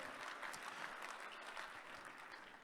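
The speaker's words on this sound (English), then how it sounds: "A big round of applause for them for making this happen." Faint, distant applause from an audience at the Sandler Summit 2019 sales conference general session, an even crackle of many hands clapping with no break.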